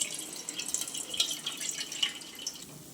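Water pours into a vessel in a kitchen with light, close trickling and splashy drips, a thin liquid stream that continues steadily without voices.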